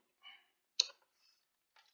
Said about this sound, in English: Let me start typing another command while it's running so that we don't waste any time here.